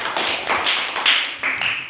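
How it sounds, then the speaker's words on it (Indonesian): Classroom applause for a student group after a presentation, a short run of sharp, close claps in a fairly regular rhythm, about seven distinct hits over two seconds. "kita beri tepuk tangan untuk kelompok 4"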